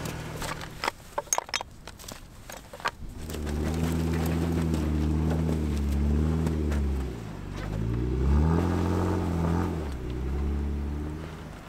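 A vehicle pulls away on a mountain road and drives off. Its engine hum starts low and steady, swells and eases with changes in speed, and runs close and continuous after a few seconds of scattered knocks and rustling.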